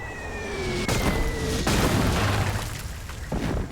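105 mm artillery shells exploding during a Vietnam War barrage: several heavy, booming blasts land in quick succession over a dense, noisy battlefield background, with one more burst toward the end.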